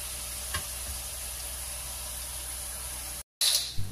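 Thin slices of purple cassava fry in hot oil as colorful crispy chips. A dense, steady sizzle fills the clip with a brief clink, then cuts out and returns louder.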